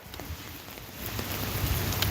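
Steady rain pours onto hard surfaces outdoors at a street rally, a dense, close hiss of drops that grows slightly louder and heavier, with no voices.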